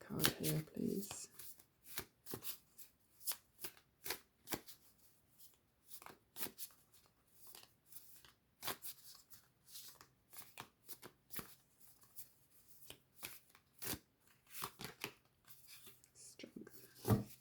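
Tarot cards are shuffled by hand in a quick run of crisp riffles and flicks, close and fairly quiet, pausing and resuming in bursts, with soft speech between.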